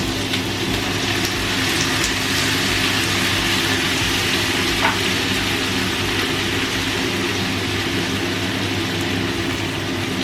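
Tuna and sweet corn frying with onions in a pan, a steady broad sizzle that holds at an even level throughout, close and continuous with no talking.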